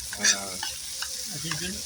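Meat sizzles and crackles in a hot pan while it is stirred, with scraping and clinking sounds over a steady frying hiss.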